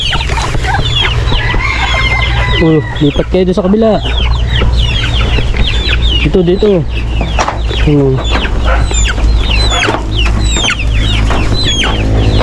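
Backyard chickens mixed in with young chicks cluck and squawk close by in a lively, overlapping stream of calls, with a person speaking briefly over them and a constant low hum underneath.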